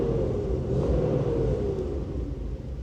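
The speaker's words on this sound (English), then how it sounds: "If I give it a rev, you can see that." A Range Rover Vogue engine gives a brief rev, a steady close rumbling drone that holds and then eases slightly, with no voices.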